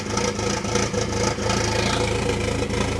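A 2.0-liter engine in an MK4 Jetta drones loudly and steadily at full throttle with the clutch in, a dense, sustained roar with small rhythmic pulses.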